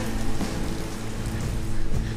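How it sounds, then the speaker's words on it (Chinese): Rain falling steadily outdoors, a broad continuous hiss of drops pattering on surfaces, loud and close throughout with no speech heard. "你可别快一点，我们在淋雨。"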